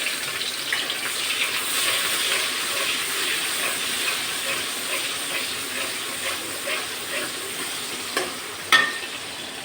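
Two chopped onions fry until reddish for an old Mughal-style latpati dish, a continuous close hiss and sizzle with soft stirring and a sharp clink of utensil near the end, with no voices.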